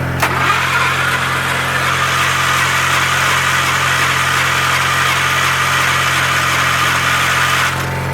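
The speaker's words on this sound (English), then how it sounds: "So we'll just crank it without choke for a little bit." An engine cranks on a cold start without choke, a steady, loud mechanical whirring drone running without pause for about seven seconds and never catching.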